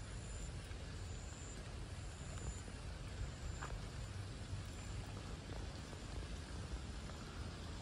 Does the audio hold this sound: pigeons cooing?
no